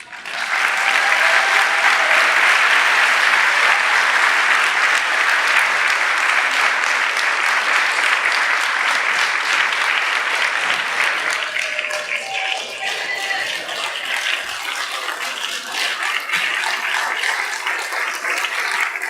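An audience applauds a lecturer after his talk, a long, loud, dense burst of many hands clapping that holds steady for well over ten seconds before easing slightly toward the end.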